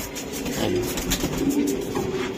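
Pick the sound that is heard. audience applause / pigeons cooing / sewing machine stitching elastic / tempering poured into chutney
pigeons cooing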